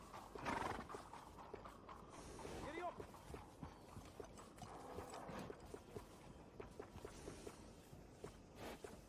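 A horse in Red Dead Redemption 2 whinnies near the start while its hooves clop in an uneven walking rhythm, close by, with ambient game sounds and a bit of speech in the background.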